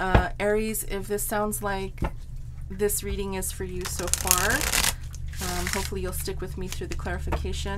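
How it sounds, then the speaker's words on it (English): A Santa Muerte tarot deck shuffled by hand, with repeated riffling card flutters in quick bursts under steady close-up talking that continues throughout. "Get a couple shuffles in here."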